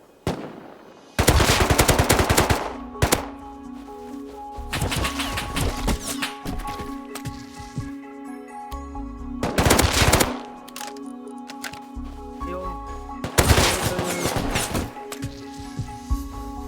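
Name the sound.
AK rifle gunfire from a video game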